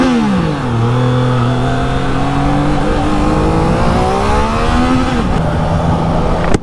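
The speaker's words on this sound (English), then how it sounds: "the exhaust note and the inline triple rumble that's there, the noise that's there is pretty good" Triumph Trident 660 inline-triple motorcycle revving loud and close, its exhaust note sweeping down, holding steady, then climbing through rising pitch before easing off, with rushing wind throughout.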